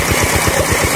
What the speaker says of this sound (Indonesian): Oke, ini semburan air ya yang dihasilkan oleh pompa Alcon